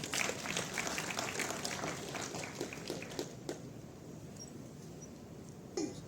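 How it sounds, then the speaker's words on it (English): Faint applause from a gathered audience at an investment talk, a soft scattered clatter of clapping that thins out over several seconds, heard at a distance with no talk over it. "Round of applause for all of you."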